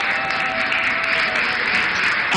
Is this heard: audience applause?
yes